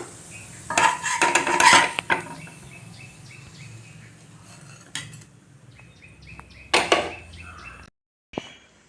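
A metal spatula scrapes and clinks against a pan while moving adai onto a plate: a few sharp metallic clatters and scrapes in short clusters, with quiet gaps between and a faint background hum.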